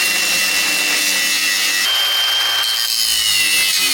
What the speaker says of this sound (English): We'll get in here with a cutoff wheel.